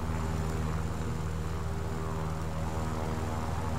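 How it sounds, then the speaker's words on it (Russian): A red Soviet-style propeller fighter plane from the War Thunder combat game drones with a steady, loud engine hum that holds at one level throughout, with no speech over it. "Так, мой любимый самолет."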